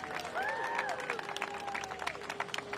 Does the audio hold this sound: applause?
yes